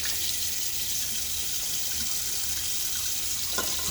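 Tap water runs steadily into a sink while shaving lather is being prepared, a continuous, even rush of water with no talking.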